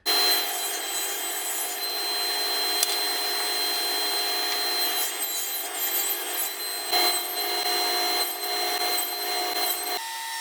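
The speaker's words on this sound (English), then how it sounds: "I'm going to run them through the planer" A thickness planer feeds wood boards down toward half-inch shelf stock, its motor whining loud and steady with a harsh cutting hiss, the load shifting briefly as a board clears the cutterhead.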